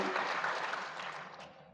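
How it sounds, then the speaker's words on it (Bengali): Audience clapping for honoured Ansar sports players at a reception in Gazipur, a brief burst of steady applause that fades toward the end, moderately distant and fairly soft. "আপনাদের জন্য একটি জোরে একটি করতালি"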